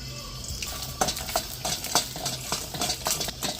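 Dried red chilies frying in hot oil in a kadai, a crackling sizzle punctuated by repeated sharp scrapes and clinks of a spatula stirring the pan, close and fairly quiet with no talk.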